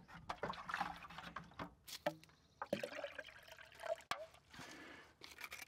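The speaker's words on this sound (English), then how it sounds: "we need to add more water" Water poured and trickling into a bucket used as a mouse trap, irregular splashing and dribbling close by, fairly quiet, with a few louder knocks and gaps between pours.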